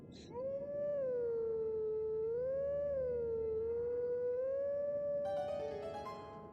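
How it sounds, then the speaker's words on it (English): A long, wavering wolf howl from The Legend of Zelda: Twilight Princess rises and falls as a melody, loud and alone, with a faint chime near the end. "Hearing all the Ocarina songs from Ocarina of Time redone in wolf howls is a strange experience."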